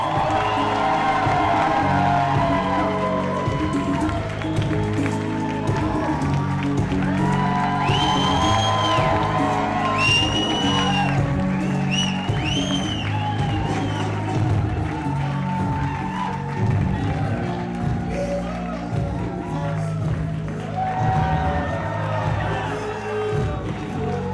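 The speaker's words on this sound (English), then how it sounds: "big round of applause for the bride's parents" Crowd of wedding reception guests cheering, whooping and clapping for the bride's parents, a loud continuous roar of applause and shouts filling the room for its whole length, with scattered voices among the noise.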